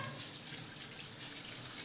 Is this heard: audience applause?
no